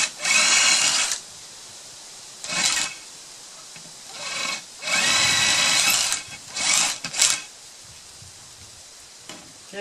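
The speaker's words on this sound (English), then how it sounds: "Give ourselves a couple holes here to start the jigsaw in, or the jigsaw." A jigsaw cuts through a board in a backyard chicken coop composter build, heard close in several bursts of rasping, buzzing cutting separated by short pauses, the last bursts brief and choppy.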